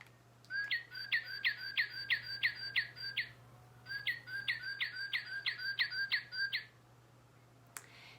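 Two bursts of rapid, repeated whistled northern cardinal song notes, each a quick series of bright chirps, sounding clear and near over a faint low hum.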